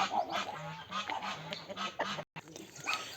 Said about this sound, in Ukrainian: так гуси кричать